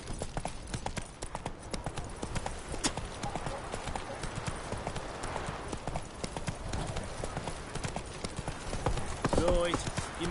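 Hooves of the horse in The Witcher 3 video game galloping in a steady rapid rhythm, loud and continuous under game ambience, with a brief whinny near the end.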